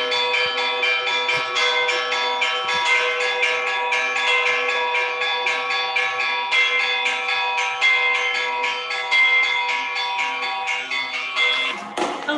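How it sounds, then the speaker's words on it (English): Church bells peal at the harbor on Hydra, Greece, struck in rapid, continuous rhythm with bright ringing overtones, loud and close, sustained for the full length before ending abruptly. "again, back at the harbor and the bells."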